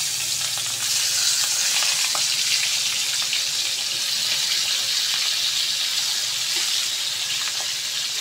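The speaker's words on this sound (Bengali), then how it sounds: "তেল দিয়ে দিচ্ছি। এখন মাথাটা ভেজে নেব।" Rohu fish heads frying in hot oil in a pan, a dense continuous sizzle and crackle close by that runs steadily throughout with no talking.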